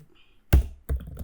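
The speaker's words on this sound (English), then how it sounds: "I'm going to type it." A couple of sharp, loud keystrokes on a computer keyboard during desktop graphic design work, two distinct thumps about half a second apart after a quiet start.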